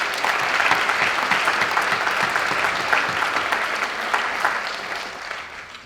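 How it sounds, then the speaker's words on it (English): An audience claps loudly and steadily at a 2019 National Honor Society induction ceremony, with sustained applause from a crowd that fades slightly at the end. "Let's give a big round of applause to all of our students."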